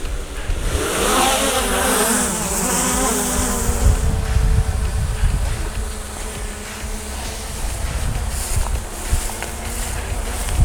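An Autel Evo Nano Plus mini drone lifts off and flies, its high buzzing propeller whine steady and fairly loud throughout, with a low wind rumble underneath and no talk.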